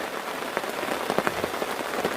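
Light rain patters steadily on surfaces at Kawah Ratu near the Pasir Reungit camping ground, a dense even wash of drops with a few slightly louder individual splats, no voices.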